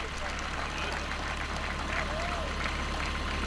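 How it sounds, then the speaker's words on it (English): An audience claps for a SWAT deputy sergeant at a sheriff's SWAT demonstration in 2015, steady applause at moderate distance over low background hum, with talking mixed in. "Extra round of applause for him"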